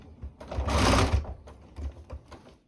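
A sewing machine stitching plastic boning into fabric, a close, steady mechanical whirr that swells for about a second, then continues in shorter, softer bursts.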